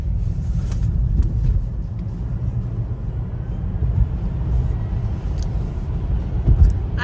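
A Tesla Model 3 electric car accelerates, giving a steady low road rumble and tire roar heard from inside the cabin, with no talking.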